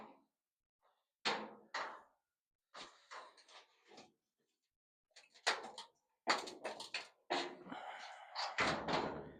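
A warped door on a chopped 1937 Chevy truck cab is pushed shut several times, giving close, loud metallic thunks and rattles in separate bursts with short quiet gaps between.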